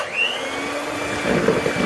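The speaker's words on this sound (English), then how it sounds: "I'm just going to whisk these eggs" Electric hand whisk beating eggs for a roulade, a steady whirring motor hum running throughout at low speed, slightly busier and louder in the final half second, with no talk.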